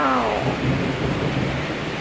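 Thunder rumbling through a heavy downpour, a deep rolling boom layered over dense, steady rain hiss, loud and close for about two seconds with no voices.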